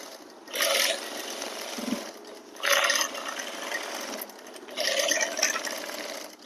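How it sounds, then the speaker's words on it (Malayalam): A sewing machine stitches a shirt seam with double-stitch rows in three steady whirring bursts separated by short pauses, close and fairly loud, with no talking. "ഇനി ഒരു തയ്യൽ കൂടെ കൊടുക്കാം ഇതിൻ്റെ ഒരു കാലിഞ്ച് വിട്ട് ഒരു തയ്യൽ ഒരേ അളവിലിരിക്കണം"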